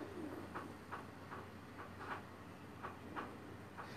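Pakistani pigeons at a rooftop loft coo faintly in a series of short, evenly spaced pulses, distant and low against a quiet hum.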